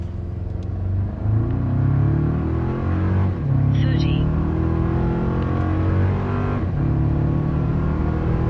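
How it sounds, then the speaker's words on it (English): Fourth-generation Toyota Tacoma with an aftermarket tune accelerating hard from 0 to 60 in sport mode after a brake boost launch, a loud, steady engine roar heard from inside the cab. "0 to 60, doing some brake boost in sport mode."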